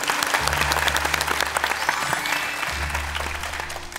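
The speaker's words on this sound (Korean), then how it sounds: "박수 한번 주세요." An audience applauds at a live presentation, dense sustained clapping that holds steadily for about four seconds alongside a low hum.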